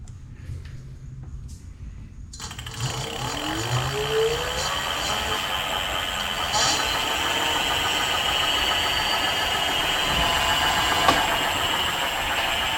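Rear hub motor of a Billy Goat V2 eBike spinning up on throttle after a rear tube change, a steady mechanical whine and hum that starts abruptly and holds at an even pitch, close by with no talking.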